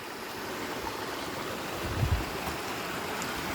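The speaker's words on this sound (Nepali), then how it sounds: "तीनवटा धारा छ है यहाँ एकदम राम्रो" Water running steadily from three village stone water spouts in the hills near Pokhara, a continuous close rushing flow with no voices.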